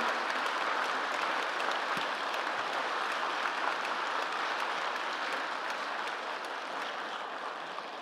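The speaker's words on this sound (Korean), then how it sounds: "우리 오늘 교육상을 받으신 네 분께 다시 한번 감사와 축하의 박수로서 네 분을 보내드리겠습니다" An audience applauds recipients of an education award at a Daegu ceremony, dense steady clapping from a large crowd that holds evenly and fades slightly at the end.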